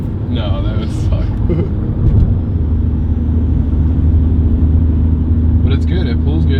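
A BMW 335d's 3-liter twin-turbo diesel rumbles steadily from close by, a deep, continuous drone heard from inside the car, with people talking over it at the start and end.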